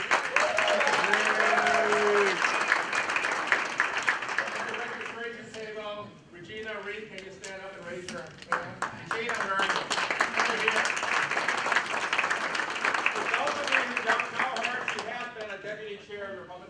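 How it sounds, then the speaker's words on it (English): A crowd at a political gubernatorial debate event applauds, with sustained clapping running through the whole stretch. Voices talk over the clapping, and a brief dip in the middle is followed by renewed clapping. "Give her a round of applause."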